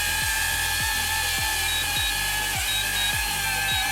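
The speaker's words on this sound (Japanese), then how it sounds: "カメラがくるっと回って着陸します。" A DJI Avata 360 drone landing while its camera rotates: a loud, steady high-pitched propeller whine fills the clip, with a regular series of low thumps and pitch dips roughly every half second as it settles, close and continuous without speech.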